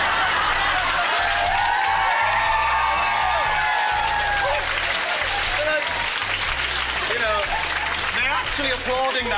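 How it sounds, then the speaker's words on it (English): A crowd applauds and cheers after a comedian's remark during a live interview, loud and sustained, with voices and laughter mixed in. "Applauding that"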